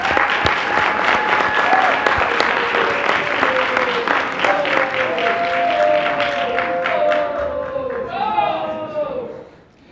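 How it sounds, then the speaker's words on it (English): Applause fills a Chicago City Council chamber, sustained crowd clapping with voices calling and talking underneath, then tapering off near the end. "Please give them one big round of applause once more."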